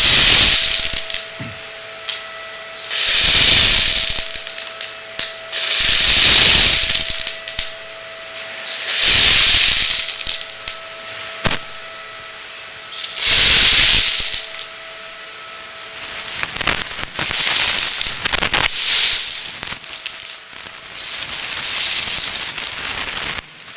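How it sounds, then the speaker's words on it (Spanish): During a basic firefighting training session, a fine water spray hits a burning fire, giving repeated bursts of loud steamy hissing with quieter gaps between them. "Le van haciendo una lluvia de agua."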